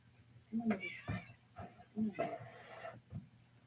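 A cat meows several times nearby during a live spirit session at home, the short, faint cries spread out with quiet gaps between them and no talk on top.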